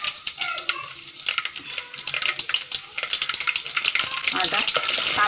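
Curry leaves hit hot oil and sizzle for a prawn curry, producing crackling spits and pops that start sparse and build into a louder, continuous fizz, close by.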